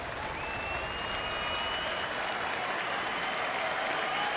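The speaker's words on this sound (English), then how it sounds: "Crowd getting behind Justin Grimm and the Rangers" A baseball stadium crowd at a Tigers–Rangers game in Texas applauds and cheers steadily, a dense, continuous roar of clapping from a large audience filling the whole stretch, with a faint whistle-like tone riding over it.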